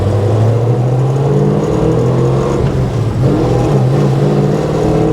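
Plymouth Road Runner V8 engine rumbling and revving steadily while driving, a loud, continuous close drone with small rises and dips in pitch.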